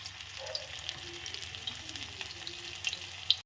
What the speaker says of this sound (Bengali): বড়াগুলো সুন্দর ভাজা হয়ে গেছে।